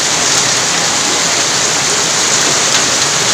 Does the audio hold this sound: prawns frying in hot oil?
no